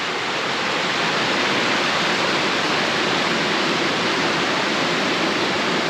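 Loud, continuous rushing water, a steady broadband roar of fast-flowing creek rapids close by in the Brindabella Ranges, with no other sounds.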